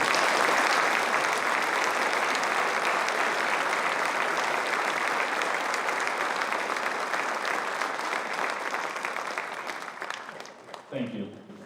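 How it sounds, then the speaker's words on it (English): Sustained, dense applause from a large audience at a 2019 Ivy Day award ceremony, steady and loud for several seconds before fading out near the end. "Let's have one final applause for the 2019 Ivy Day Award"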